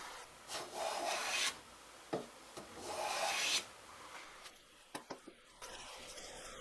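A Harbor Freight hand plane shaves wood with two long, close rasping strokes, then a few short scrapes and taps as the shaving comes away, with no talking.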